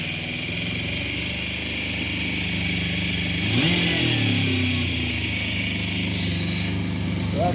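A motorcycle engine runs steadily, then is revved up near the middle, with its pitch climbing and settling at a fairly high idle of around 3,000 RPM. It stays loud and close throughout.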